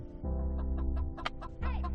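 A hen named Candy clucks beside her newborn chicks, soft repeated clucks and faint cheeps close by over a steady low background hum, with no talk.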